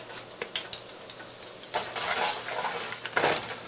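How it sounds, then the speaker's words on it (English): Mustard seeds, cumin seeds and channa dal sizzle and crackle in hot oil in a pan, a steady close frying hiss with bursts of popping, alone with no talk. "heat some oil in the pan, and we're going to add some mustard seeds, cumin seeds, and channa dal"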